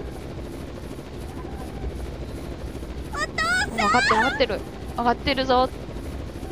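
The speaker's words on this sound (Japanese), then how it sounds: "違うヘリ来たじゃん。" Helicopter flying overhead in the video game Zettai Zetsumei Toshi 2, a steady rotor drone throughout with a voice speaking over it midway.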